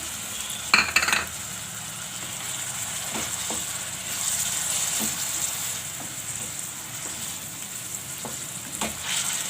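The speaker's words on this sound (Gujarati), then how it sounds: "આમાં હવે આપણે આમાં ટમેટાં નાખી દઈશું" Tomatoes go into a pan of frying capsicum for masala pasta, a clatter at the start followed by a steady close hiss and sizzle with occasional light clicks of stirring.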